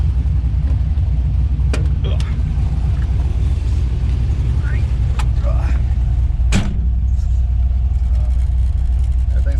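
An LS-swapped Ford Mustang V8 cruises down the street, its engine a steady, loud, low rumble heard from inside the car, with a few brief clicks and knocks over the drone.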